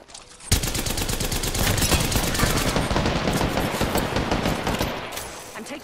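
Sustained automatic gunfire in Apex Legends rattles nonstop for about five seconds, loud and dense with rapid overlapping shots, easing slightly toward the end.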